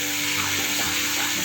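Ground spices with a splash of water fry alongside potatoes for a Bengali long-bean dish, giving a brief, steady, close sizzle with faint stirring and no talk.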